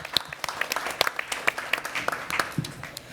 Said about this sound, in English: If you give a warm round of applause to our panelists.